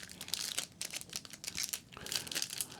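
A foil Panini Contenders Football trading card pack being torn open and crinkled, close and crisp, with repeated rustling and ripping bursts over about three seconds and no speech.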